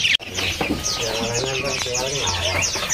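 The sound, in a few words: Trocok bird from West Java calling at market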